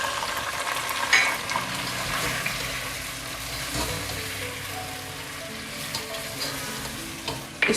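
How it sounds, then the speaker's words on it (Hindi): Chicken pieces fry in oil with garlic ginger paste and chopped ginger for a wedding-style degi korma, a close continuous sizzle broken by occasional stirring clatters and scrapes, without talk. "इसको हम फ्राई करेंगे कि चिकन गोल्डन कलर का हो जाए।"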